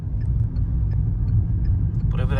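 A car on a driving-test route in Mamak rolls down a slope with light braking, giving a steady low road rumble and engine hum from inside the cabin, close and continuous, with a brief faint voice near the end.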